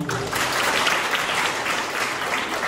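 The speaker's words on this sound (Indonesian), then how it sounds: "Tepuk tangan buat kita semua ini." Steady applause from a class of students at an Islamic senior high school, dense and continuous at moderate volume for the whole stretch.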